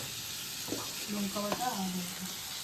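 Tomatoes frying in a pan for a snakehead fish curry give a soft, steady sizzle, with a brief murmuring voice rising over the hiss partway through.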